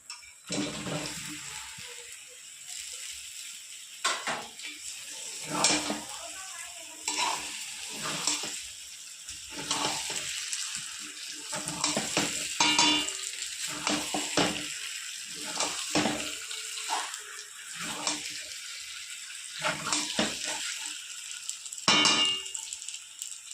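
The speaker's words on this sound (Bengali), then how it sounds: "আমার মশলা কষানো হয়ে গেছে এবার দিয়ে দেবো ভাজা আলু" Fried potatoes being stirred into cooked-down masala in a pan for Kashmiri aloo dum with peas, giving a steady sizzle with repeated scraping and clanking strokes of the spoon, close and fairly loud throughout with no talk.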